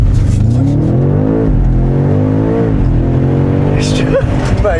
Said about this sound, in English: the sound of it now, like with the Venturi intakes and the exhaust